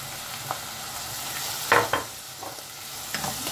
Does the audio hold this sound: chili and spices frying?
yes